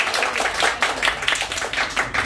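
Audience applause at a small music gathering just before a singer begins a song, a steady patter of hand claps rising and falling throughout, fairly close and alone without voices.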